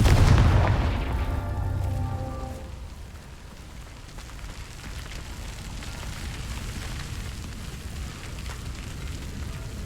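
A Confringo fire-blast spell in Hogwarts Legacy on PS5 lands as a loud booming burst at the start, then rings into a crackling, rumbling tail that fades to a steady low roar.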